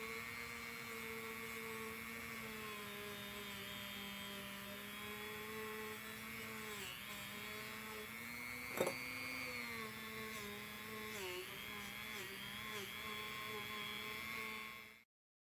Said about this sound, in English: I used one of my homemade scrubby wheels in my Dremel.